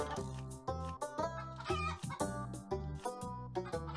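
Chickens in the video game Terracards cluck in a rapid, repeating series of close, clear calls that continue for several seconds without any speech.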